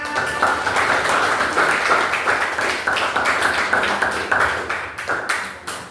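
A group in a 2025 PPG teacher-training class session claps together in dense, steady applause that holds at an even, fairly loud level throughout.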